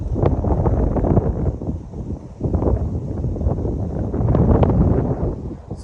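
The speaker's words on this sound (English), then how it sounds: "It's a bit windy today." Wind blowing outdoors by a backyard fishing spot, gusty rumbling buffets against the microphone rising and falling in strength, with no voices.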